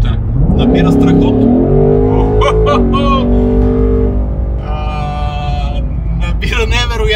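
Ford Mustang Dark Horse, 2024 seventh generation with a 10-speed automatic, accelerating hard; a loud, close engine note climbs steadily in pitch, heard under continuous talk throughout.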